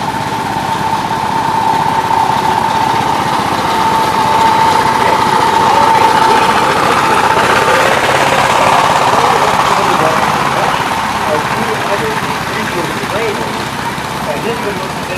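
A Gravely garden tractor engine runs steadily throughout a mowing pass, a continuous droning hum with a sustained whine, at constant loudness, with voices talking faintly underneath.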